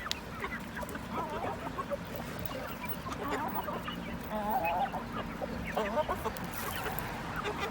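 Geese honk in a poultry yard among chickens and other fowl, with repeated nasal calls and clucks overlapping at moderate distance across the whole stretch, no talking.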